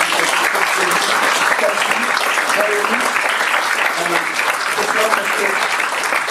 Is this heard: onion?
no